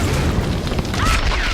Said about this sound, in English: Explosion knocks me out of cover.